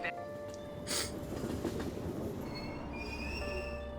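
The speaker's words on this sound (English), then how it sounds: "Train doors are now closing." Train departing a station in the Persona 5 Royal video game, a steady low rumble of rail cars with wheel squeal and rising tones, continuous throughout, with a brief high hiss near the start.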